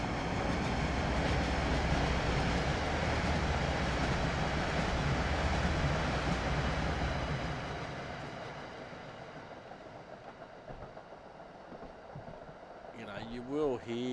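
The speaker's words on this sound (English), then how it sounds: "There's an Amtrak train." A passing Amtrak train in the Train Sim World video game, a loud steady rumbling roar that fades over several seconds into quieter rail noise, with a brief clatter near the end.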